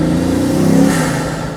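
A Bugatti Veyron Vitesse accelerates on the road, its engine a loud, steady, close-up roar with a rising pitch that holds for over a second before briefly dropping away.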